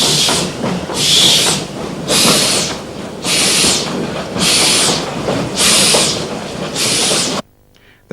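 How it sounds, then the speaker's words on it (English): An 1869 Scottish-built narrow gauge steam locomotive working hard at the head of a rake of bouncing hopper wagons, seven loud rhythmic exhaust chuffs over a rumbling, clattering train, ending abruptly. "Another Scottish veteran of 1869 heads a rake of bouncing hoppers."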